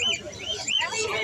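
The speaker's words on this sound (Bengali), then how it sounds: "গাছে ভর্তি পাখি" Migratory birds fill trees and call in a series of sharp rising and falling squawks, close and fairly loud, with a voice speaking briefly among them.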